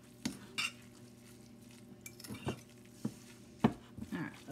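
Spaghetti squash hash brown mixture being mixed in a bowl, with scattered close scrapes and clinks of a utensil against the bowl between quiet gaps.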